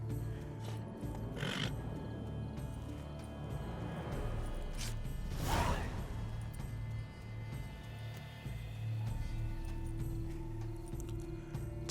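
A horse's hooves clip-clop faintly in the video game The Witcher 3, soft and irregular against a quiet ambient background.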